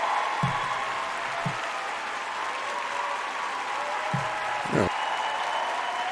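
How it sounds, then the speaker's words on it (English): A small crowd gives a thin, continuous round of applause, a steady patter of scattered claps held at even loudness, broken by a few low thumps and brief voice sounds. "It's a slight round of applause"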